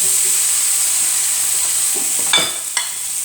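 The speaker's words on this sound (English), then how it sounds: "So you have to keep stirring because we don't want it to stick to the pan." Beef stew curry frying in a pan, a steady loud sizzle with a few scraping stirring strokes near the end.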